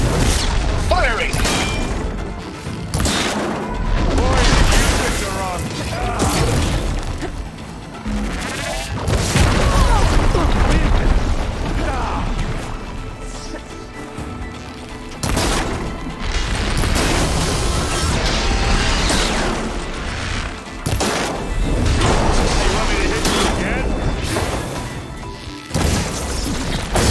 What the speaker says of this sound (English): Oh, it looks like Zoe's giving us some supporting fire.